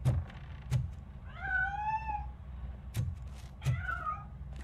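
A cat in the video game RoboCop Rogue City meows twice, drawn-out rising and falling cries separated by a pause, with soft thumps and knocks around them at moderate loudness.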